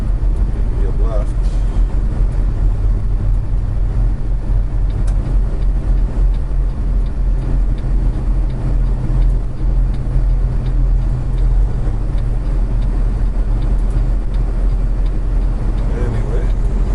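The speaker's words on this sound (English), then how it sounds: "I'm trying to let this truck go by me" A truck passes on a side road on the drive from Clovis, New Mexico toward Oklahoma City, giving a loud, sustained low engine and road rumble that holds steady for the whole stretch.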